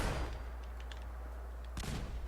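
Frag grenades burst in Fallout 4 on very hard difficulty, a couple of sharp, loud explosive cracks standing out over a steady low rumble of game noise.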